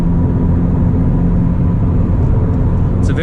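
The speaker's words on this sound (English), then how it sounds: "You can hear the turbo and you're going to get more performance out of it, obviously." Turbo of a 2022 Subaru WRX while driving, a steady loud low rumble of engine and road noise with a continuous whine blended in, heard from inside the cabin.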